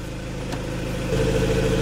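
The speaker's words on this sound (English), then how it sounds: "So now I'm gonna start the engine." RAM ProMaster van with a 3.0L engine in limp-home mode, idling just after starting; a steady, close engine hum with low harmonics that grows slightly louder and rougher partway through, no voices.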